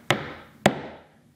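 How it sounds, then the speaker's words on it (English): A hammer taps a wooden dowel twice with gentle strokes, two sharp close knocks about half a second apart, each with a short woody ring fading out, no voices. "So we want to make sure this hammer is nice and flat here"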